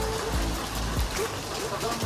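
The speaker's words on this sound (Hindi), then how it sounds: "जैसे ही मैं बाहर निकला है तो बारिश ही शुरू हो गई।" Rain falls steadily beside Nainital lake, a dense, even wash of patter close around, with a voice talking over it.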